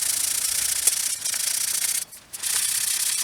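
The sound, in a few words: sanding paint off bicycle frame with sandpaper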